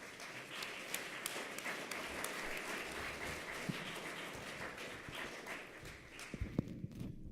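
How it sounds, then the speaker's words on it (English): Audience applause closes remarks at an athletes' forum after election results, a steady, dense wash of clapping from many hands sustained across the whole stretch, with a few sharper individual claps near the end. "I'd like an applause for both Chelsea and Max"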